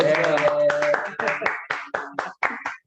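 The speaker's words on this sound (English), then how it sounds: "Clapping." An audience claps for a guest arriving on a podcast, a quick run of sharp claps that thins into scattered separate claps, mixed with excited voices cheering nearby.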